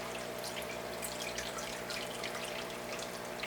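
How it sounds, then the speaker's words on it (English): Fresh water is poured steadily back into a replanted betta fish tank, a continuous close splashing and trickling with no pauses and no talk. "Carefully pour the water back."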